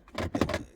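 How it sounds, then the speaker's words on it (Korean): A loose old interface unit rattles inside a BMW F10 5 Series dashboard behind the glovebox, a few short clattering knocks close by with no talking. "인터페이스 본체가 놀고 있는 소리입니다."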